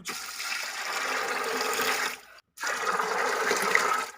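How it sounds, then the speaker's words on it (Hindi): About three litres of water pour in a heavy, steady stream into a pot of 1 kg of soaked chickpeas for boiling, in two long pours separated by a brief pause. "बॉईल करने हैं चने, 3 लीटर पानी शामिल करेंगे।"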